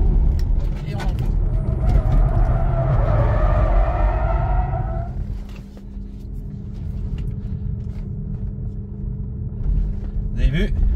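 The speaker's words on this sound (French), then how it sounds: "Petit frein à main." Tesla Model 3 on the Clastres race circuit pulling a handbrake turn, tyres squealing in a loud skid over a steady road rumble, then easing off; someone talks over it.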